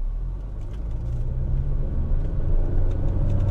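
Honda WR-V engine pulling in S sport mode around 2000 rpm, a steady low rumble that swells slightly as the car accelerates, heard from inside the cabin with no talking.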